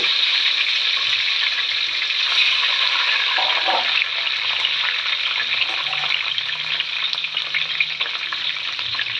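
Tomatoes, broken dried chillies and green chillies fry in a pan with sunflower oil and rock salt, giving a loud, continuous close sizzle with faint stirring scrapes throughout.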